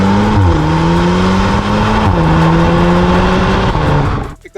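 A Volkswagen Golf R with a 7-speed DSG gearbox accelerates hard, its loud engine note climbing steadily through quick, seamless upshifts, each marked by a brief dip in pitch, before cutting off abruptly at the end.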